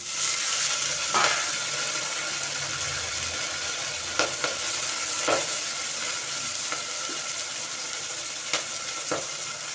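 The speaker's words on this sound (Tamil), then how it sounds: "இப்போ மிளகு பொரியுது" Black pepper frying in a pan together with sangu leaves, a steady close sizzle with occasional scraping stirs and taps from a spoon, no speech.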